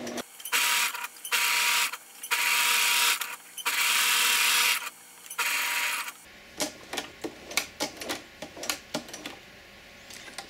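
A sewing machine stitches a bib apron in five loud whirring bursts with brief pauses, then goes quiet for scattered clicks and fabric handling.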